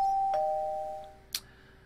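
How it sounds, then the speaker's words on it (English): A doorbell rung at a house in Minecraft: a clear two-tone electronic chime that fades out, followed by a short knock or click, with no talking. "I guess we should ring the doorbell"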